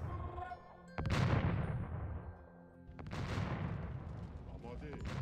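Hand cannons fire in a strategy video game: two sharp bursts of crackling gunfire, each trailing into a rolling volley, under a muffled battle din.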